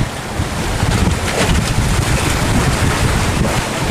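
A large fishing trawler of about 25 to 27 metres heads out to sea from a harbour mouth, pounding through rough waves. The engine, the crashing water and the wind buffeting the microphone form a loud, continuous roar.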